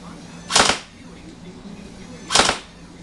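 Remote control airsoft gun turret fires two separate sharp bursts about two seconds apart, each a short cluster of snappy pops, loud and close over a low steady hum.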